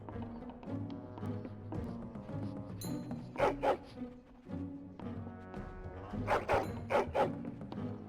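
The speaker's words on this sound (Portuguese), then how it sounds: "Latidos empolgados." A dog barks in excited bursts within the game Dragon Age: Origins, two clusters of sharp yelps standing out over a steady musical or ambient bed, with no talk.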